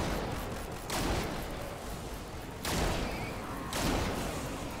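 Rapid bursts of gunfire from a freshly equipped weapon in Fortnite Save the World, three loud volleys separated by brief lulls over steady game background noise.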